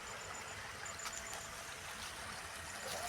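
Irrigation water flows into a farm field planted near teak trees, a steady soft rushing and trickling, fairly distant and even throughout, with no talk.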